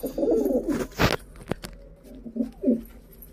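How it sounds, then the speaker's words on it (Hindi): A lalpotiya pigeon coos in soft, low, throaty phrases at the start and again near the end, close by, with a few sharp handling knocks in between. "एक ये है गाइस ललपोटिया कबूतर"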